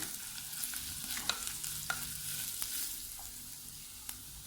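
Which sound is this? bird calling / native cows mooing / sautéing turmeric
sautéing turmeric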